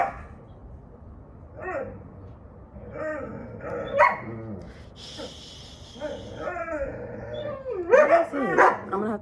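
A dog barks, yips and whimpers indoors near a bed where another pet waits, the short sharp barks coming in irregular bursts, close and moderately loud, with a person speaking at times.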